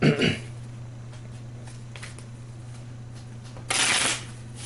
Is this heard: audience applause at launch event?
no